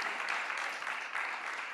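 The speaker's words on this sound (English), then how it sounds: "So give me a round of applause, just so that I know you're here." A conference audience giving a round of applause, a dense, continuous patter of many hands clapping together, steady and moderately loud for the whole short stretch.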